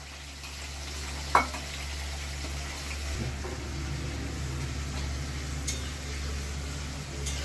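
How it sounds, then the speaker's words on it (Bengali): Thin potato chips frying in oil, with salted water sprinkled in, make a soft continuous sizzle with one sharp clink early on, and a low steady hum sits underneath. "যতবার আমি আলুর চিপসগুলো ভাজবো ততবার আমি কিন্তু একটু একটু করে লবণ জল দেবো।"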